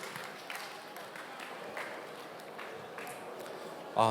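Students and teachers at a school question festival in Gyeongbuk give a team applause after its presentation: soft, distant, steady clapping in a large hall that continues without a break.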